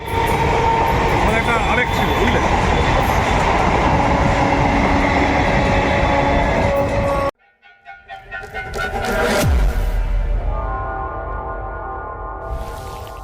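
A Bangaon local train runs past platform four at Ranaghat Junction, a loud continuous rumble and rush of wagons, then a sharp cut to a quieter passage with a swelling horn-like tone and lingering rail noise.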